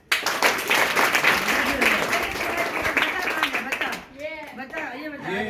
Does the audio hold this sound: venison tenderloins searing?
no